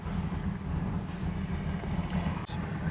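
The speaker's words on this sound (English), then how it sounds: "Sitting in idling right now at 500 RPM" A 1976 Chevy Camaro engine idles at around 500 RPM, a low steady throb with wind noise over it, moderately quiet and continuous.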